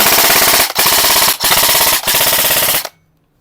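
An E&C SIG Rattler airsoft gun fires on full auto in four rapid bursts, a loud, dense mechanical buzz with short pauses between, ending abruptly in silence.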